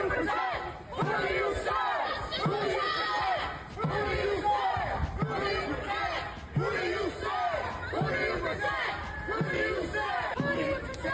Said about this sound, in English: And the rabble seems to be cheering his arrest